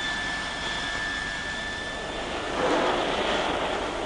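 A Sud Aviation Caravelle jet airliner engine whines with a high steady tone over a broad roar that swells louder toward the end, heard alone.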